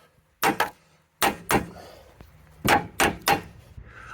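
Sharp metallic knocks strike a caravan tow ball hitch mechanism on a trailer conversion, in paired blows with pauses between, loud and close with no talking.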